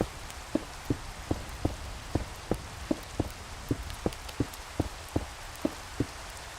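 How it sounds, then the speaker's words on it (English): Rain falls steadily in Minecraft, with evenly spaced drop taps ticking out a regular rhythm over a soft wash of patter. "Uh-oh, it's raining."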